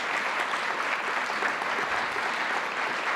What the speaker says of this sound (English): please join me in one round of applause for all of the teams who competed tonight